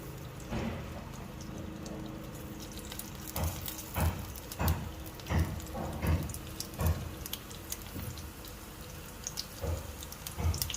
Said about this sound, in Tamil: எண்ணெய் கொஞ்சம் காஞ்சதும் சோம்பு கொஞ்சம் போடுங்க.